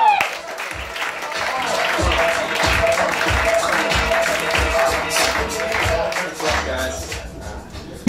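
A comedy roast audience claps and cheers for a competitor taking the stage, a steady wash of applause with crowd noise and some talk underneath.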